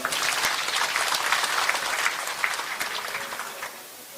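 A big round of applause from the crowd at a Taebaek arts center briefing on Gangwon Special Self-Governing Province, dense clapping that stays strong for several seconds, then thins and fades near the end, with no talk.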